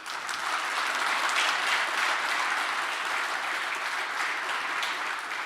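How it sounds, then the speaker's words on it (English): Steady, full applause from a live audience at a stage sales presentation, a thick continuous wash of many hands clapping at even loudness throughout, with no voices standing out. "can we give him a round of applause?"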